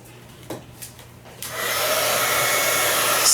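After a few quiet clicks, a blow dryer switches on and runs with a loud, steady whooshing roar, close by, drying a handmade notebook cover.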